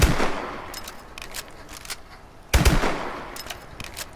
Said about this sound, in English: This is the normal NA-45 with how fast the normal NA-45 will fire.